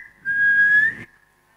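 A woman whistles a single clear, sustained note that rises slightly in pitch, lasting under a second, close and loud, on stage at a India's Got Talent performance.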